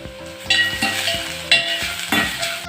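Crushed ginger and garlic sizzle steadily in a hot pan for a Kerala-style soybean curry, with a spoon stirring and scraping in a few close, louder strokes over the constant frying hiss.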